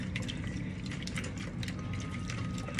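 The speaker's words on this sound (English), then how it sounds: "we're gonna whisk that up real good" Eggs are whisked briskly in a bowl for a sandwich, producing rapid, close clicking and rattling strokes in a steady rhythm over a short burst, with no talking.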